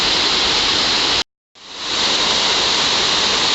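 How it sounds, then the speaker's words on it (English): A loud, steady rushing roar of a double waterfall on a creek, close by, cutting out for a moment before swelling back in. "This year you get a double waterfall."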